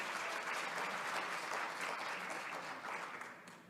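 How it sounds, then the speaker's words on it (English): An audience at an ocean forum gives a sustained round of applause, a dense wash of clapping that stays loud and steady and then starts to fade near the end. "다시 한번 큰 박수 부탁드립니다"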